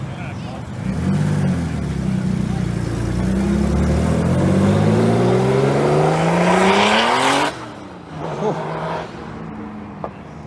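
A Porsche with a whale tail spoiler at a car meet revs hard and roars past close by, the engine note climbing steadily for several seconds before cutting off abruptly, leaving quieter background noise.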